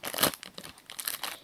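A small plastic sachet from a surprise-bag haul crinkles and tears open in a few quick rips, quiet and close up, with no talking.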